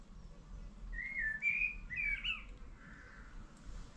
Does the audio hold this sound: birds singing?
yes